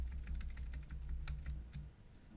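Keys clatter on a computer keyboard in a quick, irregular run of soft taps, close and quiet, with a low steady hum underneath and nobody speaking.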